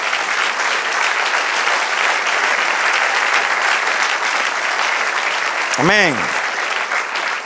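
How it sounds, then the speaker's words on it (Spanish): A church congregation applauds throughout during a sermon, a steady wash of many hands clapping, with a short spoken exclamation rising near the end. "Den otro aplauso al Señor."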